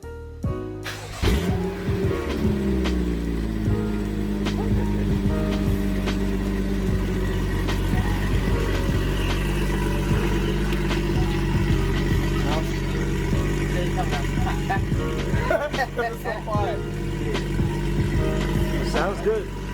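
A BMW F30 335xi with a catless downpipe and unpacked muffler starts up and idles loudly, its deep, rumbling exhaust steady and close throughout, with people talking faintly over it.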